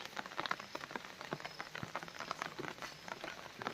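Steady rain falls in the Himachal mountains, a dense, even patter of drops on surfaces with scattered sharper splashes, continuous and fairly close throughout, with no voices.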